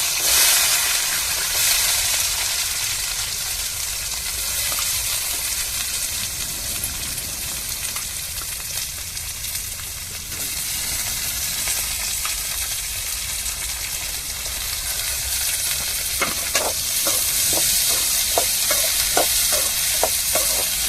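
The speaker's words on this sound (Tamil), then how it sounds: "இப்போ கடுகு சேர்த்துக்கிருவோம் அடுத்தது கருவேப்பிலை சேர்த்துக்கிறோம் அப்புறம் நம்ம சின்ன வெங்காயத்தை சேர்த்துக்கிறோம்" Mustard seeds, curry leaves and small shallots fry in hot oil with a continuous loud sizzle and steamy hiss. Toward the end, a quick run of sharp popping crackles cuts through the frying.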